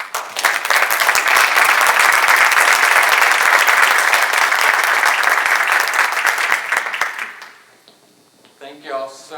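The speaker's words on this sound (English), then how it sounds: "Big round of applause." A large audience claps loudly and continuously for several seconds, then the applause fades out and a voice starts speaking.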